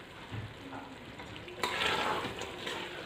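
Roasted black chana masala with fresh coriander being stirred in a pan, a steady sizzle with scraping that turns louder and busier about halfway through, close up with no talking.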